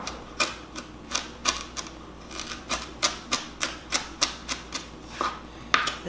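A kitchen knife cuts ingredients for Vietnamese chicken meatballs down to mincing size, striking a cutting board in a steady series of crisp, close taps about two to three per second.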